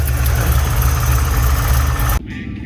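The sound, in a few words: car engine idling and revving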